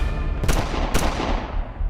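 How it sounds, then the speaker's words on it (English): Two sharp gunshots crack about half a second apart over a steady low rumble, fired on Fremont Street in Las Vegas. "As I'm running and closing the distance, I hear gunfire."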